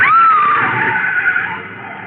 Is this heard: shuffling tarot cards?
no